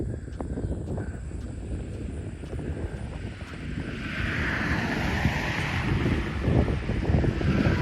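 A breeze gusts steadily across the microphone on an afternoon walk beside soybean fields, a loud continuous rushing roar that swells stronger partway through, with no talking.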